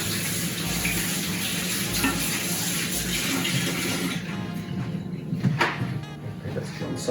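Water from a running kitchen tap splashes steadily over hands being washed after handling raw lamb for kebabs, loud and close for most of the stretch, then thinning out with a few clinks near the end.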